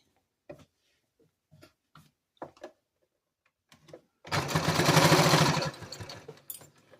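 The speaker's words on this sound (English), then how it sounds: "Stitch around the neckband at 5/8 of an inch." Sewing machine stitching around a sweatshirt neckband at a 5/8-inch seam, a dense buzzing whir for about two seconds after a few scattered short taps and clicks.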